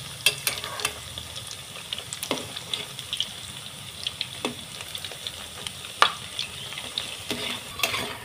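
Semolina medu vada frying in a pan, a soft sizzle broken by sharp clinks and scrapes as the pieces are turned, moderately quiet with no talking.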